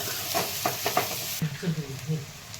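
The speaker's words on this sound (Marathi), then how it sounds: "छान हे पण तेलामध्ये परतून घ्यायचं" Brinjal sautés in hot oil with a steady sizzle and a few quick scraping stirs of a spatula in the pan, close and fairly loud.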